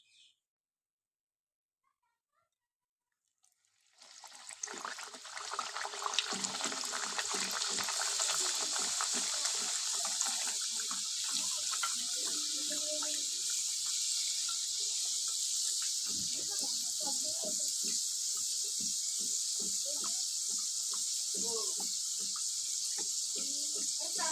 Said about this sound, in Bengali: এবার আমি এক একটা করে ভেজে নেব